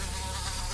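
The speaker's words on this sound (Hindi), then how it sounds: "मधुमक्खी की धू धू करती आवाज उसके कानों में गूंजने लगी।" A bee buzzing and hovering over a car dashboard, used as a sound effect in an animated horror story, a steady close insect drone with no voices.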